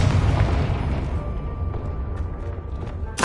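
A Confringo fire spell cast in Hogwarts Legacy, heard as a heavy booming blast with a rumbling roar that holds and fades, then a sharp pop at the end.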